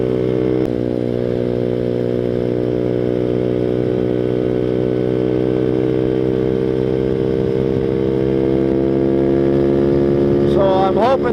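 A Grom clone mini motorcycle engine runs steadily, its loud, buzzing drone holding a constant pitch close by, with a brief rev near the end.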